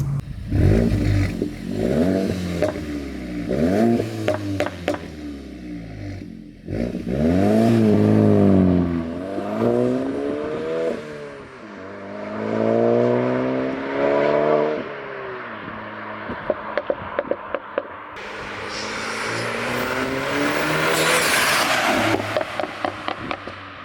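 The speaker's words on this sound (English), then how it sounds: "we'll do our revs while we're sitting here, and then we'll drive off and then we'll do the flyby coming back" A Mk8 car with an AWE exhaust revs up and down repeatedly with a throaty note, then accelerates away and returns, roaring loudly as it passes close by.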